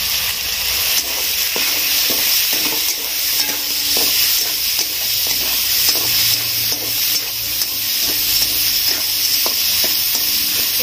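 Chicken fries over high heat in a pan with salt, turmeric, pepper and coriander powder, a loud continuous sizzle punctuated by the scrape and clatter of steady stirring.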